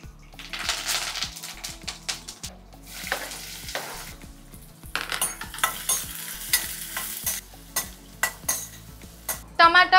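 Whole tempering spices drop into hot oil and fry with a crackling sizzle for chicken buttermilk curry, punctuated by repeated spatula stirs and metallic clinks against the pan, close and clear.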